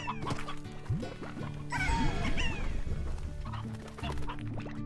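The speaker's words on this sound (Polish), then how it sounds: "Słyszę kurczaka" Chickens cluck in the Slime Rancher video game, a busy run of repeated clucks and squawks with a louder burst in the middle, steady game ambience underneath.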